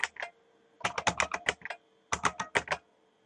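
Typing on a computer keyboard, two quick bursts of crisp keystrokes separated by a short pause, close and clear with no talking.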